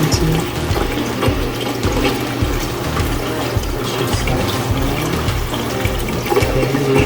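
Water drains down through a sump with a running pump, giving a continuous churning, gurgling flow with rhythmic mechanical clicking underneath, steady and close.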